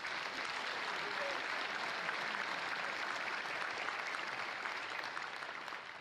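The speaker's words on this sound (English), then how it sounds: "So just give yourselves a round of applause for being involved in all this." A crowd at a conference gathering applauds itself, a soft, distant wash of continuous clapping that stays even and fades slightly at the end.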